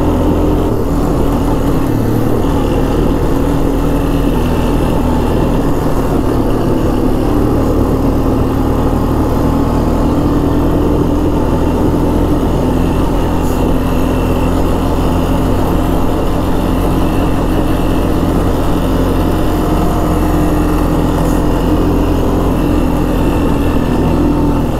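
Honda Foreman 400 ATV engine running steadily throughout, a continuous loud low rumble with no talking.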